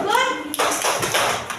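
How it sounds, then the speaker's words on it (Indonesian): Children in an Indonesian first-grade classroom perform a rhythmic clapping chant, a short burst of voices followed by quick rhythmic hand claps and taps. "kita berikan tepuk good"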